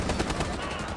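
Rapid automatic gunfire bursts out in a close, loud stretch during a Rainbow Six Siege match on PS4, with a player's voice faintly under the shots.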